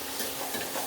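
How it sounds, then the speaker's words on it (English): Chili frying and sizzling in a pan for stir-fried pork with Thai basil, a steady dense hiss with light stirring, close and continuous for under a second. "when you're frying chili like this, you want to leave an open window"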